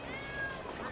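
A cat meows in the video game Red Dead, one short, close, clear mew with a rising and falling pitch over low ambient background noise.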